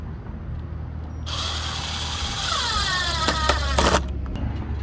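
A power drill drives a long screw into the latch cover of a custom privacy backyard door, a steady whirring rising in pitch over a few seconds, then brief clicks as it stops.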